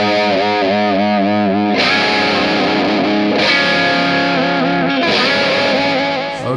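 Electric guitar played through a signature overdrive distortion pedal, sustained chords with saturated, gritty tone, loud and continuous, with new strums at regular intervals and no talking.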